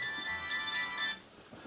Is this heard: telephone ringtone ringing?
yes